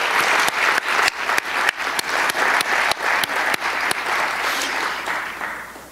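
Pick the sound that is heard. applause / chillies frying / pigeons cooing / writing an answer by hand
applause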